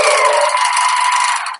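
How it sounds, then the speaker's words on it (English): A sewing machine runs in one continuous burst, stitching a wallet lining toward its last corner, loud and close with a rapid mechanical whir that stops abruptly. "as I'm sewing down to the last corner of the lining"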